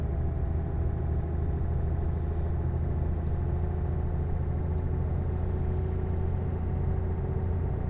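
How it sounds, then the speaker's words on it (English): V8 truck engine in the Euro Truck Simulator 2 video game, a steady low rumbling drone that holds constant throughout with no talking. "I can really hear the V8 just bed in."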